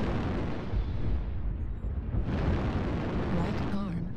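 A bomb explodes in the mech combat game MechWarrior Online, a loud sustained rumbling blast with a second burst of debris and crackle near the end, under game voice alerts.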